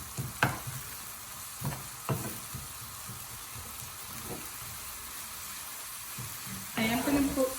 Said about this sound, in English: I'm just going to stir it.